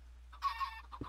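A chicken in the Minecraft video game clucks a couple of short, clear times, close and fairly quiet over a low steady hum, with no talk.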